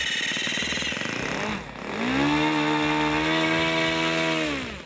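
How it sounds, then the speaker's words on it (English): A model propeller airplane engine at a model aircraft club field revs hard, dipping briefly before climbing to a loud, steady high-pitched buzz that holds near and strong, then eases off. "There's nothing like the power of a propeller airplane revving up."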